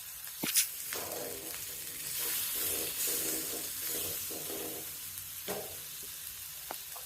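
Steady sizzling of hot sesame oil with spices crackling in a pan, tempering for fish curry, with a few sharp clinks and stirring noises, close up.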